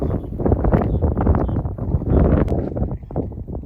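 Steady wind at the Calvillo dam buffets the microphone in low, rumbling gusts, with a faint rustle and scattered soft knocks running underneath.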